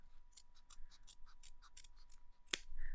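Scissors snip through thick felt backing fabric for bead embroidery, a quick series of close, quiet crisp cuts ending in one sharper snap.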